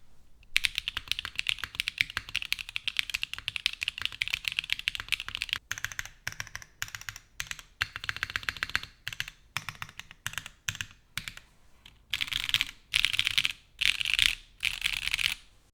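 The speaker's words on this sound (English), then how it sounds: "Here's a sound test with GMK Charcoal." Close, rapid typing on a plateless HHKB Arc60 keyboard fitted with GMK Charcoal keycaps: a dense run of crisp clacks in bursts with short pauses, alone and without talk.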